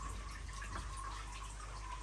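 Water pours into a pond filter chamber of a 5000-gallon filter system, a constant rushing splash at modest flow, steady and close with a low hum underneath.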